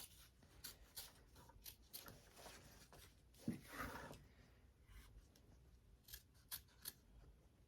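A sharp pair of scissors snips through fabric near a sewn zipper facing, making quiet, crisp, irregular cuts with soft rustling of the material between them.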